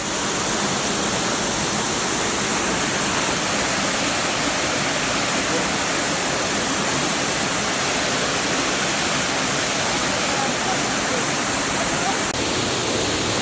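The Kima Atas waterfall near Manado roars as a loud, unbroken wash of falling water, dense and constant from start to finish with no pauses.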